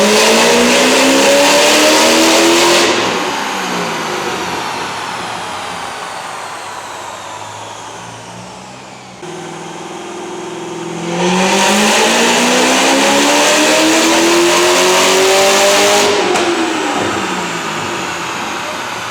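A Chevrolet Corvette ZR1 engine on a dyno revs hard and steadily climbs in pitch to a loud howl, drops back to idle, then repeats a second long, rising pull.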